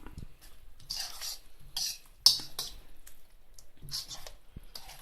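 Brown sugar is stirred into a Thai duck curry sauce with soft, intermittent wet scraping and squishing strokes, quiet and close, including one sharp clink against the pan.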